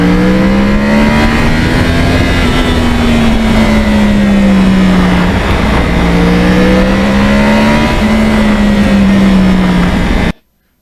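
A 2009 Yamaha R1 crossplane-engine motorcycle revs loud and close, its engine note rising and falling in repeated sweeps for about ten seconds before cutting off abruptly.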